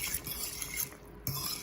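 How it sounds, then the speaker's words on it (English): Conch gets stirred in a pot of Jamaican curry with octopus and shrimp, giving faint wet scraping and clinking from a spoon against the pot over a couple of seconds. "See conch here? Stir them up as well."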